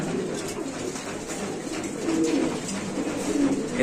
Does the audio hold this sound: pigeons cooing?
yes